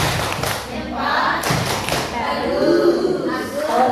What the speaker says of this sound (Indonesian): Beri tepuk jempol kepada Pak Agus.